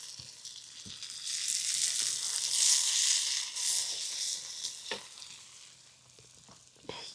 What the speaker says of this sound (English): Add vegetables to the pot.